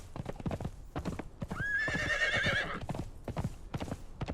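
Horse hooves clop in a steady rhythm while riding in a video game, broken by a loud, clear neigh in the middle, with no talk over them.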